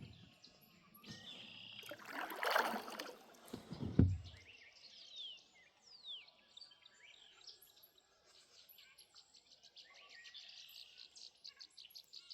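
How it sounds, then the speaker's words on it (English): Birds chirp in scattered short calls over a quiet evening backdrop beside a flooded stream in the Ozark Mountains, faint and somewhat distant, after a few louder bumps and rustles at the start. "That bird was in agreement with me."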